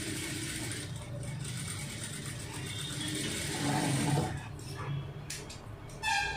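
Sewing machine running a single-stitch line along a marked length of blouse fabric, a steady mechanical rattling whir that continues throughout at moderate level, briefly picking up near the end.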